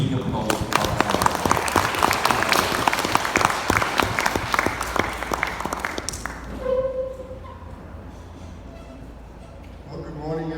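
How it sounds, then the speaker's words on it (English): An audience applauds a professor at a university event, steady clapping filling the first six seconds before fading, then a lone voice begins speaking over the quieter room. "Please give a big applause to Professor Lester."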